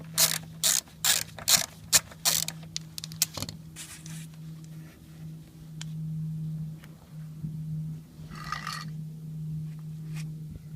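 A ratchet loosens a 10mm bolt on a 2005.5 Audi S4 B7 with the 4.2 V8 during a fuel filter change: bursts of rapid, close, loud clicks for about three seconds, then a few scattered clicks over a steady low hum.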